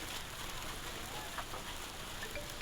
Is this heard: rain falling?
yes